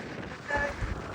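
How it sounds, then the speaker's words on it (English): Low rumbling buffeting of strong wind against the microphone, gusting louder midway through the short stretch, no talking. "It's extremely windy"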